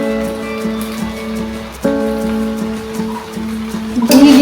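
Rice, lentils and chicken frying together in ghee for a meat khichuri, giving a steady crackling sizzle with a low hum beneath, a sudden clatter near the middle and louder spattering at the end.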